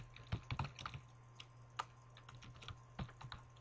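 Light clicks of keys typed on a computer keyboard, entering a label name in a web development tool; irregular, close-miked taps with short pauses between bursts, no talking.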